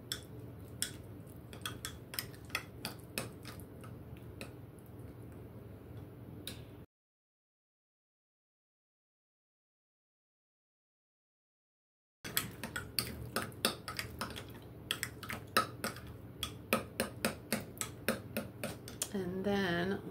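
A spoon stirs a breakfast mixture in a bowl, giving quick, light clinks and scrapes in a steady patter, broken by a stretch of complete silence before the stirring picks up again.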